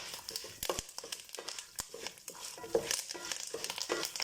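Curry leaves and tamarind frying in a pan give a quiet, close crackle and sizzle with frequent small pops and stirring rustles, no voices over it.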